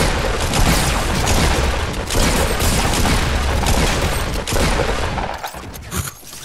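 Dense, continuous gunfire from a Fortnite battle royale match: overlapping shots and booms fire rapidly in a loud, sustained barrage across the whole stretch, with no talking.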